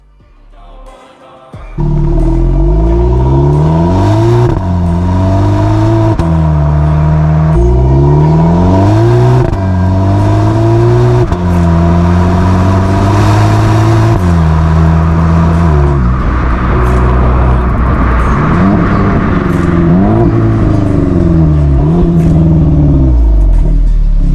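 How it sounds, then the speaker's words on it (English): 2022 VW Polo GTI 2.0 DSG accelerating hard in sport mode with manual shifting, loud close engine climbing repeatedly in pitch, with a series of upshifts dropping the note between pulls. "So I just put the car in sport, went manual, took off"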